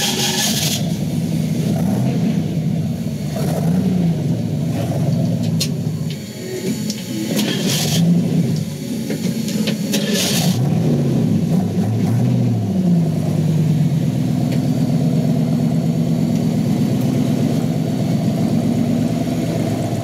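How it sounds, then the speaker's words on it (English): A tow truck's engine drones loudly and steadily as it climbs the Escalator slickrock trail at Hell's Revenge, with the revs rising and falling as it crawls along. "Watch him go up Escalator in this tow truck, and then watch him turn around and come back down it."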